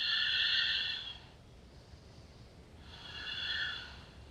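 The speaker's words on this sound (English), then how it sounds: "Deep belly breaths here." Deep belly breathing during a standing vinyasa yoga twist: two long, airy breaths close to the mic, one in the first second and another near the end, with a quiet pause between and no talk.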